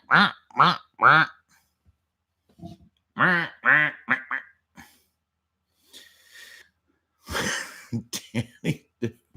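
A voice imitates a duck with rasping, nasal quacks in three quick bursts, then a longer run of choppy quacks and throaty snorts with short silent gaps between them.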